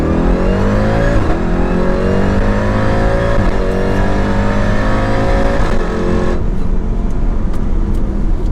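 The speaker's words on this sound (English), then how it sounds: "So this is just going to be an automatic launch onto the highway." A built Jeep Trackhawk, roughly 1000 hp, launches automatically onto a highway and pulls hard through the gears. Its loud, continuous engine roar climbs in pitch, dips briefly at each upshift, then keeps rising.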